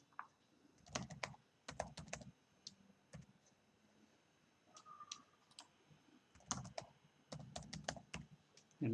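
Keys clacking on a computer keyboard while a username is entered during an account sign-up, close and fairly quiet, coming in quick bursts of taps separated by short pauses, with no voices.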